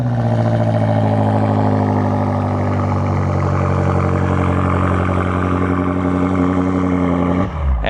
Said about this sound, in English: It's hard to talk over how good that V8 sounds.